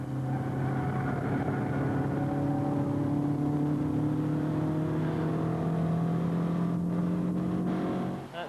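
Racing cars at speed on a track during a motor race, a sustained engine drone with a steady pitch that slowly rises, loud and continuous throughout with no talk.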